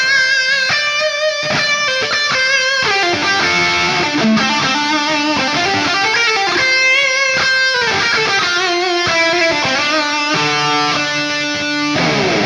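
A distorted electric guitar plays a soaring lead line through an STL Tones Lasse Lammert amp plugin preset, loud and sustained with bent notes and heavy reverb, continuous throughout with no talking.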